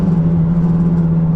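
Car engine hauling a load of wood, likened to a motorbike without an exhaust pipe: a loud, steady droning rumble with a strong low hum, continuous and close throughout the short moment.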